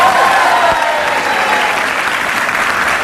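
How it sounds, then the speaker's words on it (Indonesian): Loud, dense applause from a TV studio audience on the Indonesian talk show Bukan Empat Mata, a continuous wash of clapping that holds steady throughout with no talk over it. "Tepuk tangan sekali lagi untuk"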